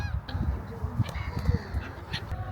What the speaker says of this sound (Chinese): 这海鸥好多啊！